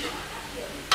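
Fish cakes fry in a pan on board a seafood boat off Binh Dinh. A steady, close hiss of oil is heard with soft stirring scrapes and a brief louder clatter at the end.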